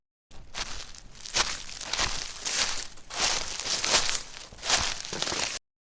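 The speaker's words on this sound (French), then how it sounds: "quand on les touche, ça donne le bruit des feuilles qui sont écrasées" Dry, frizzy kinky hair is handled and squeezed, giving close crinkly crunching like crushed dead leaves in several rhythmic rustling bursts, with no voice.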